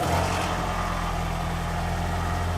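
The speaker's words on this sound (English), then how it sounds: "let's start up the car and make sure our noise is gone" A car engine idles steadily after an exhaust repair, its low hum holding even and rattle-free for a few seconds with no talking.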